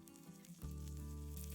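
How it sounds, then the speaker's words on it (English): Hot butter poured over garlic yogurt for a Lebanese hummus fatteh bursts into a loud, steady sizzle that starts suddenly and keeps going, close and alone with no talking. "and the sizzling hot finish."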